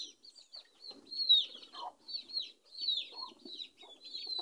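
Flock of farm chickens clucking and squawking nearby, a busy overlapping chorus of short calls with some higher chirps throughout.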